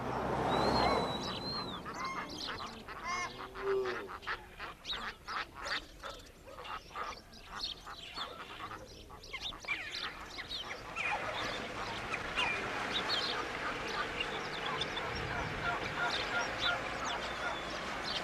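Geese honk and quack in a noisy, overlapping chorus on a farm, with sharp calls early on fading into a busy, continuous flock murmur.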